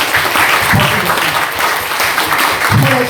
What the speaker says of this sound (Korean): 대장님 박수 박수.